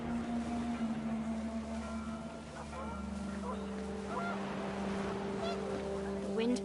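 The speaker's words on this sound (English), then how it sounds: "The wind picked up, and panicked geese appeared and quickly went." Panicked geese honk in the game What Remains of Edith Finch, their calls rising over a steady low drone of wind and a held tonal hum, moderately loud and continuous.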